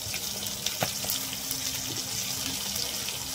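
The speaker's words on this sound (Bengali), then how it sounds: "সামান্য একটু জল দিয়ে দিলাম।" Water poured into a pan of cabbage and fish head curry as it cooks, a steady running trickle with faint sizzling underneath, close and continuous.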